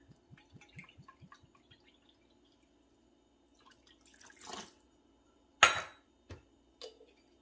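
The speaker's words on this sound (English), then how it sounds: "we're going to do 1/3 cup of apple cider vinegar." Apple cider vinegar, a third of a cup, poured in a few short liquid bursts after faint tapping, with quiet gaps between splashes.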